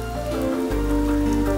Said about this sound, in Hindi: शुक्र है बारिश हो रही है